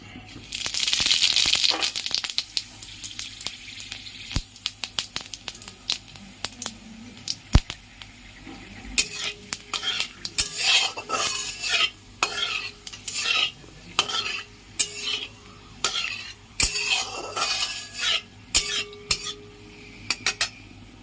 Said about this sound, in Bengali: একটা শুকনো লঙ্কা, গোটা জিরে আর রাঁধুনি আমি ফোড়ন দিয়ে দেবো